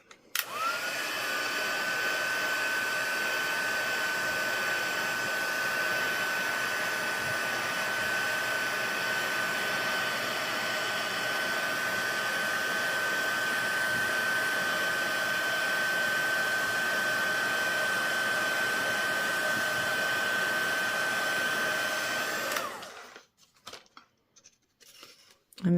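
A heat tool blows hot air to melt embossing powder on paper for a craft project, a steady close whirring blast with a constant high tone that runs unbroken for over twenty seconds before cutting off abruptly.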